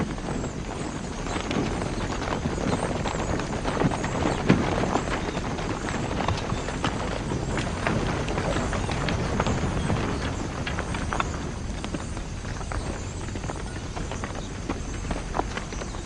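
Horse hooves clip-clop in a dense, steady patter on the ground, close and continuous, with the rustle of movement and faint crowd bustle behind.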